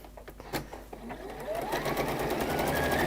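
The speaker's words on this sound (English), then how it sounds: "I'm just going to top stitch" A sewing machine top stitching along the top of a seam: a few short clicks and stops, then a steady whirring run that builds and holds, close and fairly quiet, with no talking.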